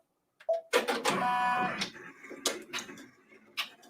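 Multi-needle embroidery machine starts up for background quilting on a mini-quilt, giving a close mechanical whir with a brief tonal hum followed by clicking and clattering bursts.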